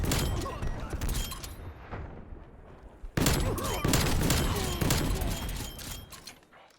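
Repeated heavy blasts from the Street Sweeper shotgun in Black Ops Cold War on hardcore mode ring out loud and close, with a brief lull before another dense run of shots.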